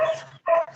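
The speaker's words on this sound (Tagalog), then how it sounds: "Sensya na, ingay ng aso." A dog close by gives two sharp barks in quick succession, loud and alone with a short gap between them.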